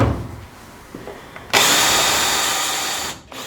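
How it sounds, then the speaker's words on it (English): A power drill whirs steadily for under two seconds after a few faint clicks, drilling a number 40 hole into an RV-7A aircraft fuselage, then cuts off abruptly; close and loud. "We want to match drill our number 40 holes into our fuselage."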